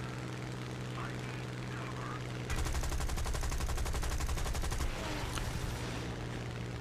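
A Typhoon fighter's guns fire a long rapid burst in War Thunder, a dense rattling roar over steady engine drone, followed by a brief second burst.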